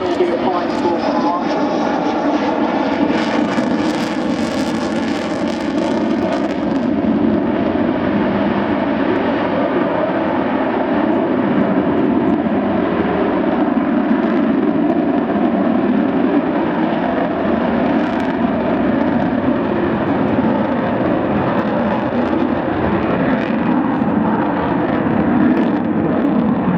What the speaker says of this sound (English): As the Vulcan now approaches from the left towards crowd centre